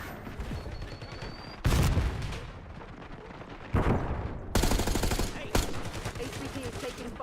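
Rapid gunfire and heavy bursts from a Call of Duty: Black Ops 6 match, with loud broadband volleys cutting in repeatedly over a steady battle din while game voice lines play.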